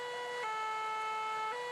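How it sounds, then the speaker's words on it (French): Fire engine siren sounding during a fire drill at a campsite, a steady wailing tone with a brief dip, moderately distant and alone. "Quelques minutes après le déclenchement de la sirène, les soldats du feu arrivent sur les lieux."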